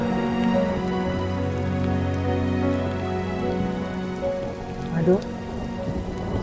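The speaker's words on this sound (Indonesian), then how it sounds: "ini kok hujan deras ya?" Heavy rain pours steadily on a surface with low rumbling thunder underneath, a continuous dense wash, and a brief exclamation from a voice near the end.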